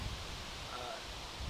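Outdoors, steady broadband wind roars and buffets the microphone for the whole moment, with low rumbling gusts at the start and end.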